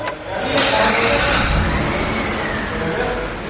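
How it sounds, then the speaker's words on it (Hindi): A 2007 Mitsubishi Pajero engine starts with a quick crank, catches, and settles into a steady, loud idle heard close up. "ये इस गाड़ी का स्टार्टअप"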